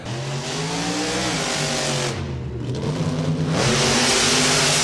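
A monster truck engine roars and revs continuously on a qualifying run at the Monster Jam World Finals, with rising and falling pitch, briefly easing off mid-way before surging again at full power.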